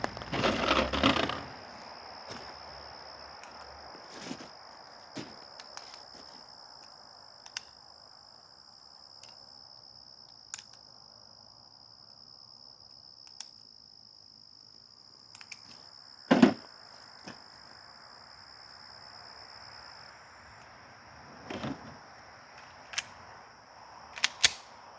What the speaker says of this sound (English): let's load this mag up